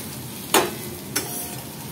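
Potatoes dropped into spice paste frying in a pan for a Bengali fish curry: two sharp bursts of sizzle over a low steady frying hiss, close by.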